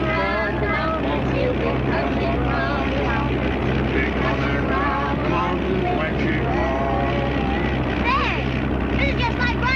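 A propeller airplane engine in flight, from a 1939 aviation setting, gives a loud, steady drone that runs without a break beneath voices talking throughout.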